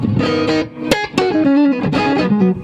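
An electric guitar plugged straight into a Precious Tones Sapphire amp, controls at 5, plays a short chord-and-note phrase, slightly gritty with reverb tails ringing after the notes.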